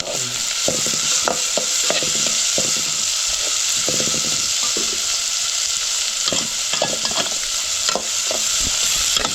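Onion browning in a pan with turmeric and spice masala for a moringa leaf dish, a steady close sizzle with repeated scraping stirs of a spoon against the pan.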